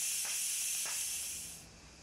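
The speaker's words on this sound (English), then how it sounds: "carefully release the valve and wait until the pressure steam is completely released." Steam hisses steadily from the released valve of a pressure cooker during cooking of an oxtail soup, loud and continuous with two brief surges, tapering slightly near the end with no voices.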